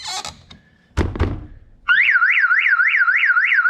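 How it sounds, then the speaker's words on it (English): A sharp thunk and clatter while working on a car, then a loud electronic car alarm starts up, wailing in a rapid rising-and-falling warble close by. "Well, the alarm works, everyone."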